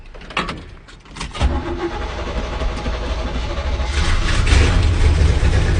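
An old Chevy C20 square-body pickup with a 350 small-block V8 cold starts after sitting a month: brief cranking, then the engine catches and settles into a loud, rough, rumbling idle close by.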